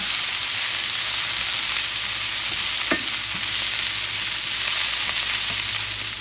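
Vegetarian Mexican hash with spinach sizzles steadily in a pan while being stirred, giving a continuous hiss of frying with a few scraping stirs near the middle and no voices.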